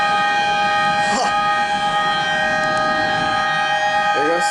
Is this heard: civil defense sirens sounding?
yes